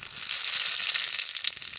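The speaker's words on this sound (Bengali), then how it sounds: "ওই কড়াইতে আমি সম্বারা দিয়ে দেবো জিরা আর রান্ধনি" Whole cumin and radhuni seeds temper in hot oil in a karai, making a bright, steady hiss and crackle that stays close and fairly loud throughout the short moment.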